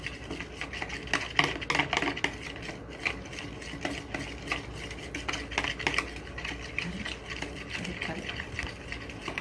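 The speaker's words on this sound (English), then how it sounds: "I've been whisking this for about 2 minutes now, and it's thick, just like pudding is supposed to look like." A whisk beats a thickening pudding mixture in a bowl, making quick, continuous clattering scrapes against the sides in an uneven rhythm that fills the whole stretch.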